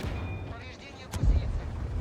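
A single heavy T-10 tank cannon shot in a video game booms once midway, cracking sharply then rumbling low, against steady game noise and engine hum.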